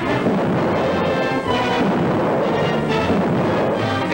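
Loud, dense rumble of wartime artillery fire in an old radio film, a continuous roaring wash of blasts with no clear gaps and no voices.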